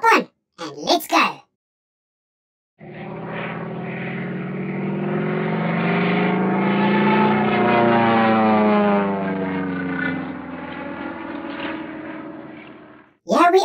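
A passenger airplane in flight gives a steady, loud engine roar for about ten seconds, with a slowly shifting whine, bracketed by brief speech at the start and end.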